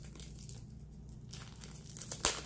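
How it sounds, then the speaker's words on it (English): Plastic packaging being slit with a small X-Acto knife and pulled away, faint soft crinkling with a brief sharp rip near the end, close and quiet, no voices. "I take my little X-Acto knife, kind of go in there, cut my plastic off"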